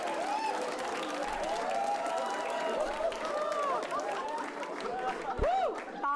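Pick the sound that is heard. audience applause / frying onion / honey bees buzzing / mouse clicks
audience applause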